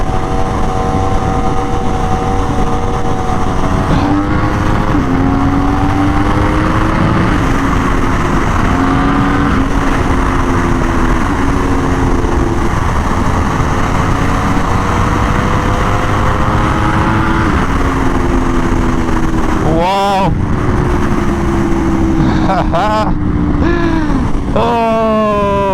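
A new Aprilia RSV4 sportbike engine on an intense street ride. It is loud and close, with rising revs, repeated gear shifts and a sharp throttle blip near the end.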